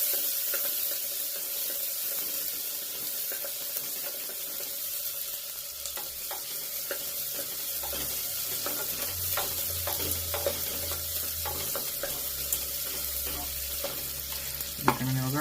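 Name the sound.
onion and tomato frying in a pan for pulao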